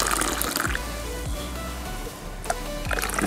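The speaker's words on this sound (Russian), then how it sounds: "сейчас будет разлит по нашим фиалам" Liquid healing resin pours into small vials, giving a continuous splashing, filling sound with a few sharper drips and clinks near the start and end. The pouring is close and moderately loud, with no talking.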